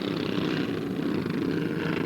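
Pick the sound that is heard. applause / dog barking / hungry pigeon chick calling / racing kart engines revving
racing kart engines revving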